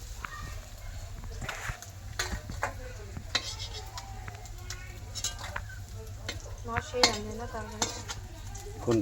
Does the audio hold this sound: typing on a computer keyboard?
no